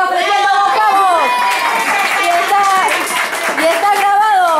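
A family crowd at a Christmas gathering claps and cheers for the man providing the turkeys, steady applause mixed with excited voices and chatter throughout.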